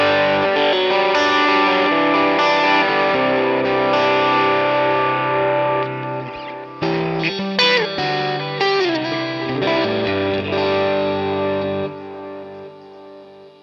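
Electric guitar played through a NUX Solid Studio with an EL84 power amp simulation turned fully up into a 421-miked Alnico 2x12 cabinet, ringing distorted chords and single notes with effects for over thirteen seconds, no talking.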